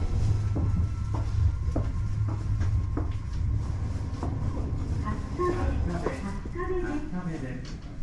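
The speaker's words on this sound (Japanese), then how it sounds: "この電車は各駅停車柏行きです。" A local commuter train bound for Kashiwa rumbles and clatters at a Japanese station, with doors thudding, scattered clanks and a recorded Japanese announcement voice over the noise.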